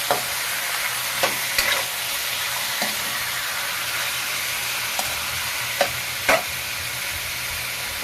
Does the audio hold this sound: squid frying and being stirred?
yes